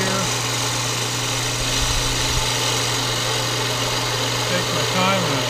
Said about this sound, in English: I'm just using my cutoff tool and making real small cuts here.